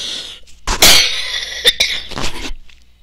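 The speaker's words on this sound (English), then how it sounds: "I'm coughing like crazy" A person coughs hard a few times up close, harsh rough bursts separated by short pauses, with a raspy throat sound between them.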